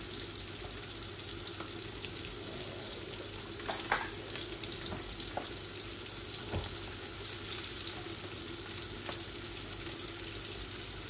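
Fish pieces sizzle steadily in a hot pan after being turned over, a continuous close crackle of frying oil broken by a few faint utensil clinks.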